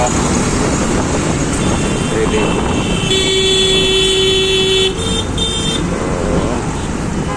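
Dense traffic jam noise on a road with flyovers, a steady roadway rumble with a long car horn blast and several shorter toots close by, someone talking over it.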